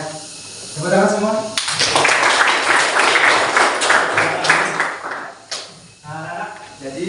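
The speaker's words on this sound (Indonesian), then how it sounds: "Tepuk tangan semua." Students in a classroom applaud together, a dense burst of clapping lasting several seconds, with teacher speech before and after it.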